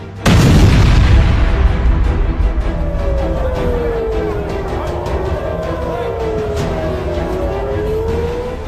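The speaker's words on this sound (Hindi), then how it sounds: "दिसंबर में ये हूती का पहला हमला है जिसने तेल अवीव में मिसाइल हमले से भारी तबाही मचाई।" Missile attack on Tel Aviv: a sudden loud explosion boom followed by a sustained roaring rumble, with a rising and falling siren wail over the din and no speech.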